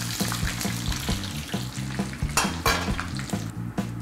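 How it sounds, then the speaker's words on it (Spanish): Oil bubbles and sizzles steadily as potatoes deep-fry, with a few clinks of utensils against the pan. "Y buena fritura siempre es en aceite profundo."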